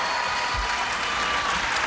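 A game show studio audience applauding, a steady and even wash of many hands clapping, sustained at a moderate level for the whole moment.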